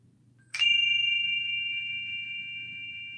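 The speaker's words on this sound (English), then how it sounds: "give it a little chime, just to kind of signify that we're going to be beginning something" A small chime is struck once to open a silver water ritual. It gives a single bright ding that rings on with a clear, slowly fading tone in an otherwise quiet room.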